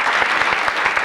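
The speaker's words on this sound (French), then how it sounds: "je vous demande d'applaudir à tout rompre" A crowd applauding steadily, dense clapping throughout with a few sharper claps standing out, fairly loud and close.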